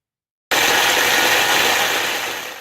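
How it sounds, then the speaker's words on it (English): A small kitchen blender whirring loudly as it chops biscuits, starting abruptly and running steadily with a gritty grinding texture that eases slightly toward the end. "I'm going to put them in my little blender, so I'll have to do it a few at a time"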